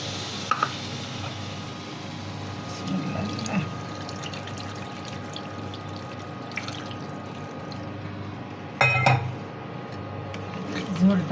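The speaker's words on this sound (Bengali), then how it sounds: "এবার আমি ঝোলের পানিটা দিয়ে দেবো" Water is poured into a browned rooster curry to make the broth, a soft splashing pour and bubbling over a background sizzle, with a louder burst of pouring near the end while someone speaks nearby.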